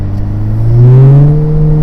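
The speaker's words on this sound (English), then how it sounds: "this loves to rev" A 2020 Honda Civic Si with a 205-horsepower engine revs up while accelerating on a road at about 50 mph, its loud, steady engine tone climbing in pitch close to the mic, with no talking.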